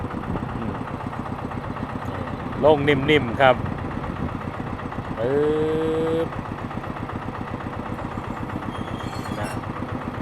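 Engine of a black E-taen farm utility vehicle idling with a steady, rapid chugging throb throughout, fairly close, while someone talks over it in short bursts.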